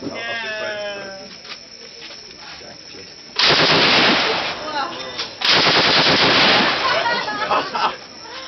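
Bursts from an M60 machine gun firing live rounds at a shooting range near the Cu Chi tunnels in Vietnam, two loud sustained volleys of rapid fire, each several seconds long, after a quieter opening with a faint voice.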